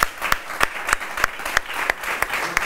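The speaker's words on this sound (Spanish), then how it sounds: "le mandamos un aplauso" At a book fair proclamation event in Nerva, a rhythmic round of claps rings out, evenly spaced sharp hand claps about three per second over a light background murmur.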